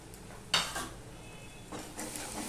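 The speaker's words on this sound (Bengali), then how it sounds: "একটু কষিয়ে নিয়েছি মশলা দিয়ে।" Ground coriander, cumin and turmeric frying in a pan for a potol korma made without garlic or onion, with a soft steady sizzle and two bursts of stirring scrapes, near and free of talk.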